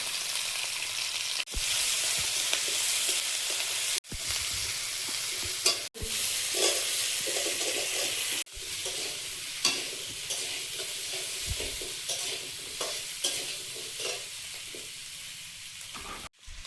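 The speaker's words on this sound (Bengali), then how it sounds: "আলু ভাজা হচ্ছে" Potatoes frying in a pan, a close, steady sizzle and crackle broken by several sharp clatters of stirring against the pan, with no voices.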